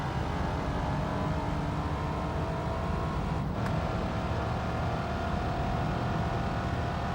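Steady, droning engine note of a car in the video game Gran Turismo 3, running on manual with an odd, rough tone, loud and continuous throughout with one brief dip midway.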